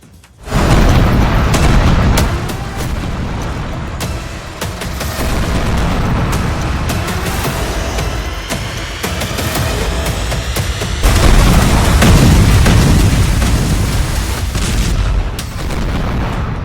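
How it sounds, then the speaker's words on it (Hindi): Heavy, continuous booming explosions roll one into another, loud and rumbling, like a sustained bombardment with deep blasts throughout. "जंगी जेट से बरसे बम जब धरती पर फट रहे हैं"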